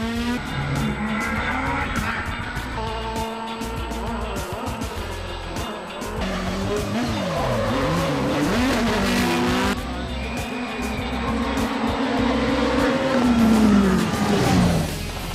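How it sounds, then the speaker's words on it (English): Toyota Gazoo Racing rally cars slide hard on the course, tyres squealing in long wavering wails over revving engines, the skids rising and falling in loud overlapping bursts. "They competed with tyre-shredding aggression around the course"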